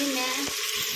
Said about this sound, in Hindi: तो बस अब इसे भी एक बार और भून लूँगी मैं 1 मिनट मसालों को